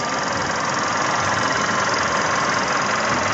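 Audi A1 11-plate engine idling, heard close from the open engine bay as a steady, even mechanical hum with a fine ticking texture, loud and unbroken with no talk.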